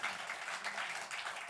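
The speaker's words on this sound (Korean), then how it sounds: "하나님께 먼저 감사와 영광의 박수를 올려드리겠습니다" A church congregation applauds steadily during a Sunday service, a dense wash of clapping at moderate distance that holds without a break.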